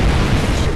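A sustained, loud explosion roar in the Star Trek Online video game, dense and rumbling throughout with no pause or talk.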